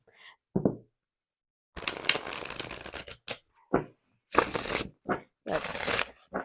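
Tarot cards of US game stock are riffle shuffled and bridged in several quick bursts, crisp fluttering riffles broken by short taps and pauses, close up and with no talk.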